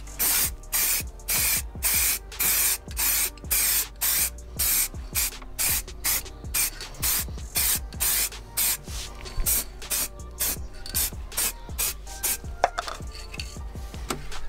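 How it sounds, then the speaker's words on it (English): Silver paint sprayed onto a car's brake calipers from a can, heard as a string of short hissing bursts in a steady rhythm, close and fairly loud, with clattering handling noises between bursts and no voices. "You guys have seen people spray calipers on a car."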